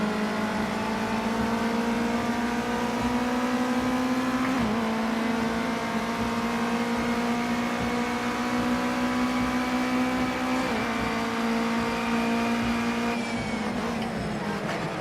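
A race car engine in Project Cars 2 drones steadily through a wet-weather race, its pitch rising through long accelerations with brief dips at the shifts. The note stays loud and continuous and never breaks off.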